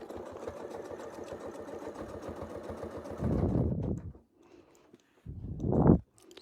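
A sewing machine stitching fabric for a continuous motif, running steadily in a fast, even rhythm, louder for a moment, then stopping before a short final burst. Close, with no talking.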